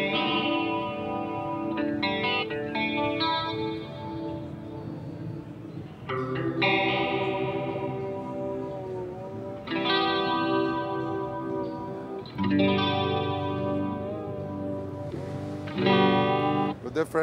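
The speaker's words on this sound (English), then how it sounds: "What the multi-voice does is actually introduces more voices of the chorus." Electric guitar played through a Tech 21 Boost Chorus pedal on its multi-voice chorus setting, ringing sustained chords and notes with a wide, shimmering, sweeping chorus and some reverb, in several separate strummed phrases without talk.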